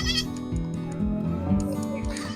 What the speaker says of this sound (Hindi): ये बकरी का बच्चा बहुत तंग कर रहा है मुझे, ये बहुत शरारती बच्चा है बकरी का